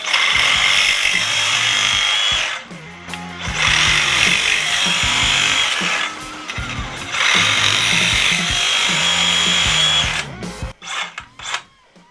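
A DeWalt reciprocating saw cuts through conduit in three loud, sustained bursts of buzzing, rasping blade strokes, each lasting a couple of seconds with brief pauses between, ending in a few short clattering knocks.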